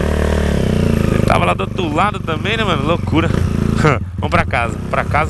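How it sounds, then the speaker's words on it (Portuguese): A Honda Today scooter engine runs close by with a steady low drone that seems to be struggling near stalling on an uphill street, while someone talks over it the whole time. "Ai, meu Deus, não morre não a moto."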